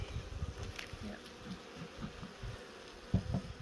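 Honey bees in a big, strong hive hum in a dense, continuous low drone, with a few louder buzzes near the end. The bees are close, and no one speaks.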